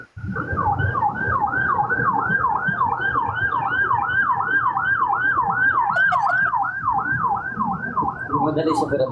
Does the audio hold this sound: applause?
no